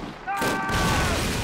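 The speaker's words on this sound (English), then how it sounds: "Looks like those guys are putting a grenade in it. That'll take it out." A grenade blows up a tank in Call of Duty with a sudden loud burst that becomes a sustained rumbling roar, close and heavy.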